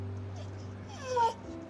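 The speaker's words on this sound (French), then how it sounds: "Regarde, c'est un chien errant." A stray dog whimpers in a brief high, wavering cry lasting about a quarter second, rising over a steady low hum and faint background voices.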